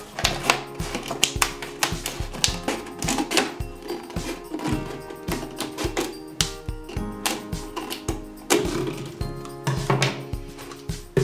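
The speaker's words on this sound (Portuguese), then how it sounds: "E venho com a tesoura e corto de fora a fora." Scissors cut a plastic bottle all the way around along a marked line, giving a close, rapid run of crisp snips and crackling plastic clicks in an uneven rhythm throughout.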